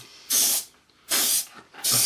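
Airbrush paint sprayed onto a Trumpeter 1/32 AV-8B Harrier model kit comes as three loud, close bursts of hiss separated by short pauses.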